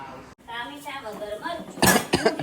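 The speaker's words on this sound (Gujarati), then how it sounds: "બાળી દાળ વઘારી ઉધરસ આવી" A single sharp cough, set off by fumes from tempering dal, bursts out after a stretch of talking, followed by a short second cough, near and loud.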